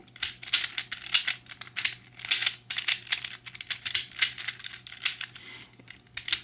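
Sliders and a turning barrel piece on a mechanical puzzle make crisp, irregular plastic clicks in quick bursts, close to the ear and with no talking.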